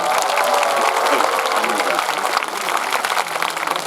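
Audience applause at an outdoor summer festival concert, dense clapping from a large crowd that stays loud throughout and eases slightly toward the end.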